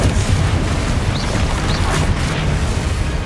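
Spell effects in a Harry Potter video game, a loud continuous rumbling boom with bursting crackle throughout and faint whooshing swells, close and dense with no voices.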